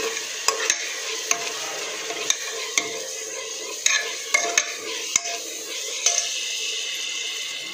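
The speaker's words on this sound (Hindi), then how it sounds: "मैरिनेट कर रखी चिकेन और आलू ताक पकईदे" Close, steady sizzling of marinated chicken and potatoes frying in a pan, punctuated by regular scraping clicks of stirring.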